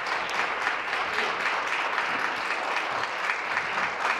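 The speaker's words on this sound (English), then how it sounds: "Is the clock starting after they stop clapping?" Sustained applause fills a parliamentary chamber during question period, a steady dense wash of clapping at even loudness throughout with no voices breaking through.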